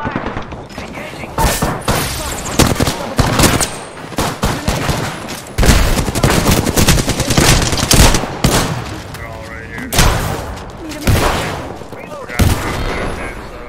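Rapid gunfire in a video game comes in loud, dense bursts of automatic shots separated by short pauses, close and sustained, while a voice talks over part of the shooting.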